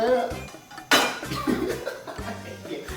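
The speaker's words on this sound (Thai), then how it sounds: "ตั้งกระทะ" A metallic clank of a frying pan set down on a gas stove, loud and close, followed by lighter rattles while people talk and chuckle nearby.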